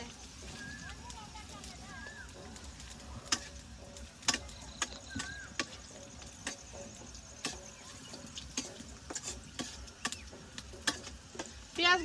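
Onions sizzle and fry in oil in a pan over a village cooking stove, a steady crackling hiss broken by sharp clicks and stirring knocks, with faint voices in the background.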